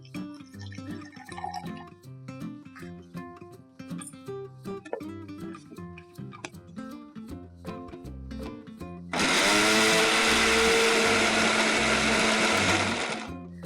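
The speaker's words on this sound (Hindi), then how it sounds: "अब इसको मिक्सर में थोड़ा सा पानी डालकर चलाते हैं" Loud, steady whirring of a mixer grinder blending dosa batter with a little water starts partway through and runs continuously to the end, after a stretch of quieter background music.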